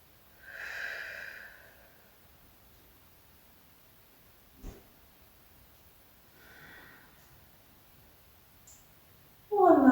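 Deep breathing during a Pilates stretch on a ladder barrel, a slow inhale then a softer exhale, close and quiet, with a brief click and a louder noise at the very end.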